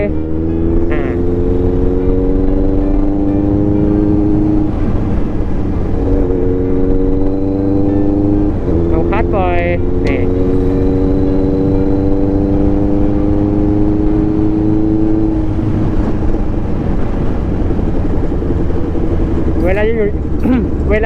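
A Honda CBR650R sport bike accelerates with a rising engine whine that climbs in pitch, drops sharply at each gear change into second, and climbs again, loud and continuous throughout.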